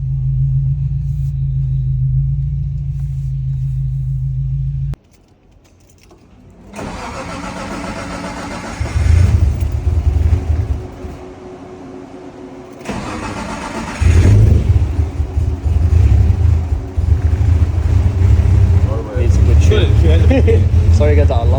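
A 550hp Nissan Skyline R34 cranks over and fires up, settling into a loud, lumpy idle that rumbles close by with uneven pulses and occasional revs, and people talk over it.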